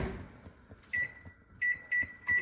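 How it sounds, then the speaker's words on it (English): A microwave oven hums quietly, then gives a series of sharp electronic beeps: one longer tone followed by several short beeps near the end. "we're gonna start putting it in the microwave"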